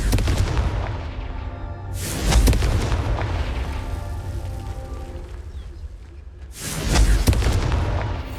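Two heavy booming blasts from the Confringo spell in Hogwarts Legacy, loud and close with a sharp crack at onset and a rumbling decay between them.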